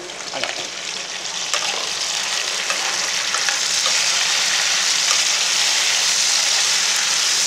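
Bitter gourd pieces fry in a pan, a loud, continuous hiss of sizzling oil building steadily, with occasional stirring clatter close by.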